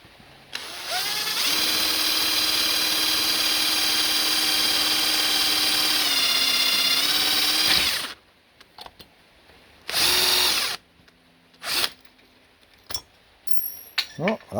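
A power drill switched to hammer action runs loud and steady for about eight seconds, its pitch dipping briefly under load, then short bursts of drilling follow with pauses between, during fireplace building work.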